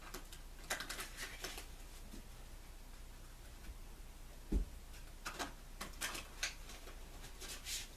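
Quiet crisp riffling of tarot cards being shuffled, in short separate bursts, close by, with a soft thump partway through and a faint room hiss.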